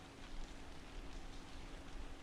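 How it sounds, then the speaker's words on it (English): Steady rain hisses evenly across a surface in the video game Date Warp, a soft continuous wash with no distinct drops standing out. "Thank goodness it's only rain and not one of the traditional Memphis thunderstorms"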